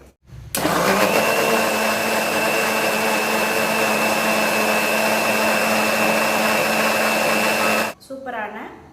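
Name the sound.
blender grinding Oreo milkshake with ice cubes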